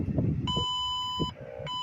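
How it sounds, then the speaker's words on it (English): Electronic alarm tones from a Norfolk Southern railway defect detector at trackside: a steady high beep held for about a second, a brief lower tone, then the beep starting again, clear and fairly close. "Detector alarm."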